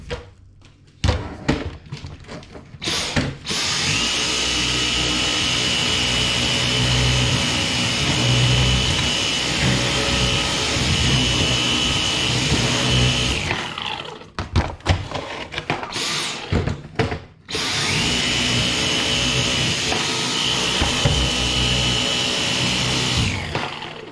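Dyson cordless vacuum cleaner picking up crushed biscuit, a loud, steady high whine running in two long bursts separated by a brief stop with clicks and handling noise.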